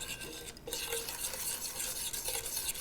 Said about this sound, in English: just whisk until it's thoroughly combined